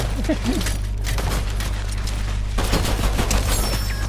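Rapid bursts of Fortnite gunfire crackle steadily and loudly throughout, a dense fusillade of automatic shots with mechanical clatter, over a constant low game hum.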